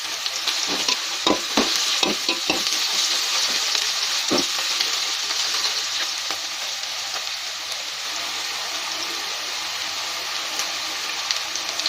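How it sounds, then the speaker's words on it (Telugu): Onions and green chillies frying in hot oil, a steady bright sizzle close by, with a few sharp stirring knocks early on before settling into continuous hissing frying. "ఆయిల్ బాగా వేడెక్కాక ఆనియన్స్, పచ్చిమిర్చి వేసుకుంటున్నానండి"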